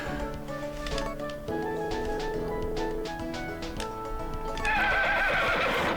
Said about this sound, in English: That is the happiest horse.